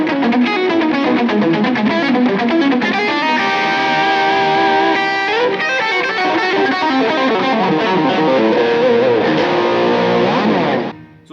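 Heavily distorted electric guitar, a Gibson Les Paul, plays fast, busy shred runs with effects, loud and continuous, then cuts off abruptly at the end.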